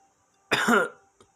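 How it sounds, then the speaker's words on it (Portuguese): A single sharp cough, close and clear, followed by a brief faint sound and then quiet. "Tossiu."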